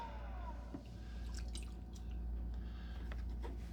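Water drips and squishes off a pottery piece on a wheel flooded with water, several scattered wet drops over a low steady hum.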